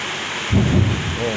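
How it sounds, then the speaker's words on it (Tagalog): Thunder rolls during a storm with rain: a sudden low rumble swells midway over a steady hiss of rainfall. "Kumukulog na."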